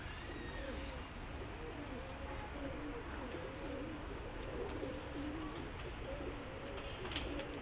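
Wehshi pigeons, including a female, cooing steadily in soft repeated rolling calls under a constant background hiss, fairly faint and continuous throughout.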